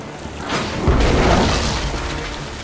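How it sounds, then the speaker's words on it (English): Pirate ship cannons firing at another ship in the adventure game Tales of Monkey Island: a loud, dense booming blast with crashing, shattering debris that rolls on and slowly fades. "Then empty the cannons on him, me hearties!"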